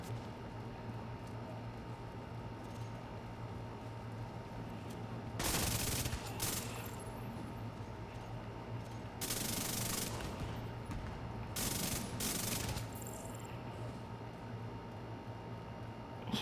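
Rapid bursts of video-game gunfire from a very high-RPM weapon build ring out as three or four short, loud volleys separated by quieter gaps.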